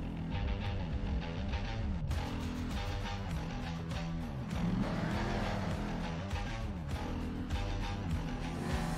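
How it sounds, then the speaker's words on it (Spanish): Monster trucks racing in the video game Monster Jam Steel Titans 2, with continuous revving engines rising and falling in pitch, tire noise and bursts of skidding over a dense, loud mix. "Carreras de coches de estos gigantes con las ruedas que lo aplastas todo"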